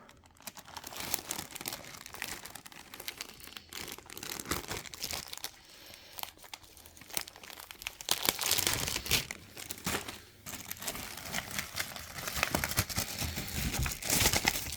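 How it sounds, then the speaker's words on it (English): A Blaupunkt MS70BT micro hi-fi is pulled out of its foil wrapping, making close, crinkly crumpling and tearing sounds that come in irregular bursts and grow louder toward the middle. "Let's take it out of the foil."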